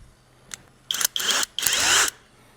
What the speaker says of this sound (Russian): Сверлю не в отверстии, а на новом месте, в принципе.